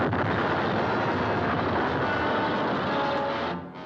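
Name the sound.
explosion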